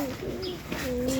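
Pigeons cooing close by, a couple of low, soft throaty coos spaced briefly apart over a faint background hum.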